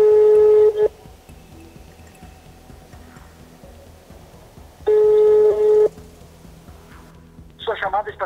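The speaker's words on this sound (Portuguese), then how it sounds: "Tentamos contactá-lo por telefone." A telephone call is placed, with two long ringback tones separated by a pause, followed by a brief electronic chirp, heard close and clean with no talking over it.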